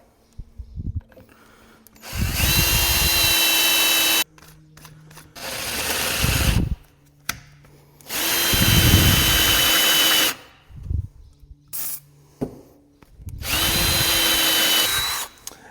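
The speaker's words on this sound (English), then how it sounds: "We're drilling it out" A power drill drilling out metal on an International Scout whines in four long bursts of a few seconds each, loud and close, with short pauses and light clattering between runs.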